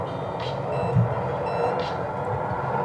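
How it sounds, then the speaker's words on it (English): Safety beep from a Onewheel GT electric board during pushback, two short high chirps about a second and a half apart, over a steady rumble of riding and wind noise. "you will also hear your safety beep during pushback"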